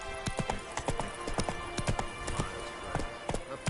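Roach, a horse in The Witcher video game, galloping with rapid, steady hoofbeats close up, a brisk continuous clip-clop rhythm throughout with a faint whinny hinted.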